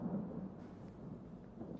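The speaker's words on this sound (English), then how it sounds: "It's just thunderstorms." A low, rolling thunder rumble from a storm in the horror video game Don't Scream, heard as a brief, muffled, steady roar with a faint rain-like hiss and no talking.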